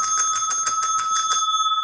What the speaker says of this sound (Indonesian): lonceng.